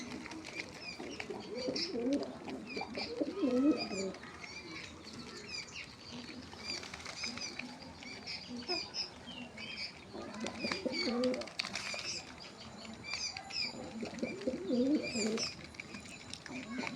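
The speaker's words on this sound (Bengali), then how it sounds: "মুরগি কবুতর একসাথে খাচ্ছে।" Pigeons coo softly and flap their wings while feeding alongside chickens at a backyard pigeon loft, with low repeated cooing and scattered chirps and rustles throughout at moderate distance.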